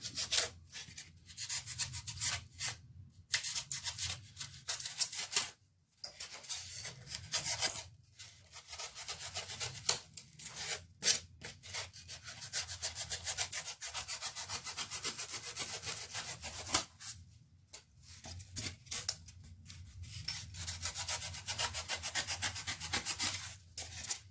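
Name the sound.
bevelling the edges of a blast crater model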